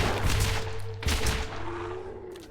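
Gunfire from a gun in Borderlands GOTY Edition, a few loud shots close together with a low rumbling tail over a steady game background hum.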